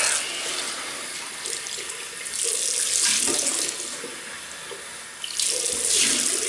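Water runs steadily from a sink tap while a Merkur Progress razor is rinsed, a close, continuous splashing hiss that swells briefly as the blade passes through the stream.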